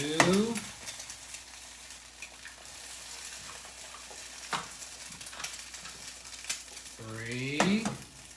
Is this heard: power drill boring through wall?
no